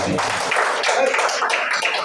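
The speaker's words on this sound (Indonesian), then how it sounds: "Tepuk tangan dulu" Audience at a motivational business event breaks into continuous clapping, a dense, steady patter of many hands.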